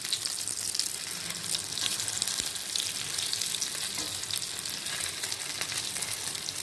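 Fish cutlets fry in a pan with a steady, dense sizzle that carries evenly from start to finish, close up and free of talk.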